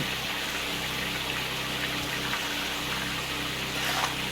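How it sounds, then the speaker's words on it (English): A water pump in Gold Rush The Game runs loudly and constantly, giving a steady gushing wash of water noise with no breaks. "Man, that pump's really loud."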